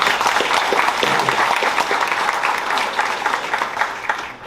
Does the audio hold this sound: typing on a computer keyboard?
no